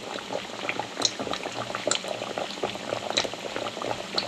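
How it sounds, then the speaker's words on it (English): Coconut cream pie frying in oil at medium-high heat, two pies in the pan, gives a steady close crackling sizzle with scattered pops and bubbling throughout, no talking. "Now let's drop our pie in slowly. See, nice sizzle."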